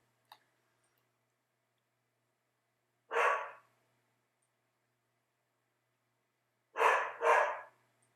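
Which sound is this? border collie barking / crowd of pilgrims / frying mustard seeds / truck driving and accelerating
border collie barking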